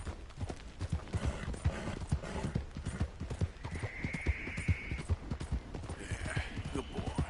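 Horse hooves clop at a steady riding pace in the video game Red Dead Redemption 2, a loud continuous rhythmic beat, with a brief whinny and soft tack sounds over it.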